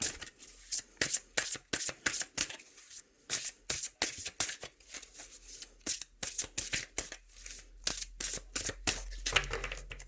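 Oracle cards are shuffled by hand in quick, rhythmic riffles and taps, close and crisp, repeated many times with brief gaps between strokes.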